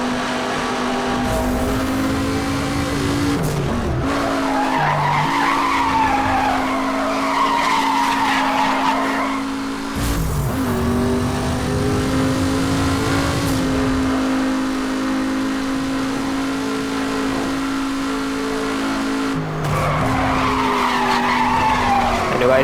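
A race car in the Need for Speed Hot Pursuit Remastered video game roars through a tunnel, its engine droning loud and reverberant while tires squeal and skid repeatedly, with revs rising and dropping across the run.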